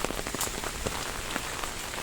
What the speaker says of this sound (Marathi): आता आमच्याकडे जोरदार पाऊस झाला आहे सुरू